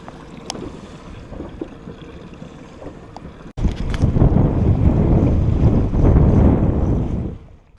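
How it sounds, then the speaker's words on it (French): Wind buffets the microphone with a low roar that suddenly gets louder and stays strong, water sloshing faintly underneath, aboard a fishing boat. "Il commence à y avoir de plus en plus de vent."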